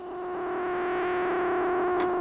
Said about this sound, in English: You get a really warm sound when noise is distorting the frequency.